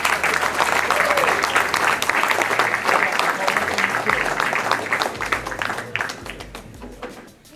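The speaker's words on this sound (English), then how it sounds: "Let's hear it for Jim and Arnold" An audience at the Arnold Sports Festival claps and cheers loudly and steadily, the applause gradually fading out toward the end.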